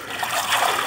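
Sprigs of curry leaves dunked and swished through a vessel of water, giving a close, steady sloshing and trickling with soft splashes throughout, with no other sound.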